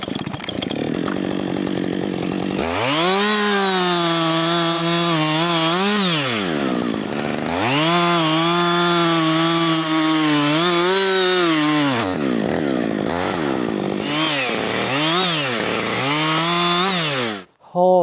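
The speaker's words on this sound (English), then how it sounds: "That chainsaw" A loud chainsaw engine whines and revs up and down in long sustained pulls while felling trees and cutting firewood, briefly dropping off between cuts, close by and continuous.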